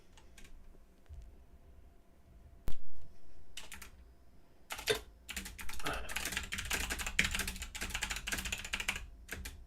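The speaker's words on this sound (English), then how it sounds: "I started typing." Close typing on a computer keyboard during an Omega Strikers gaming session: a few scattered key clicks at first, then a dense, rapid run of keystrokes, with no talking.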